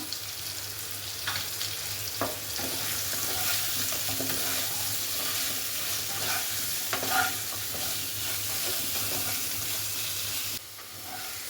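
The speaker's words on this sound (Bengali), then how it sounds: "দেখুন বন্ধুরা হয়ে গেছে আলুগুলো ভাজা" Steady oil sizzle of salted potatoes frying in a pan, with occasional scrapes and clinks of a spoon stirring, no voices.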